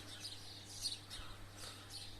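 Small birds chirp and tweet in several brief, faint calls outdoors, spread across a steady low hum of background noise.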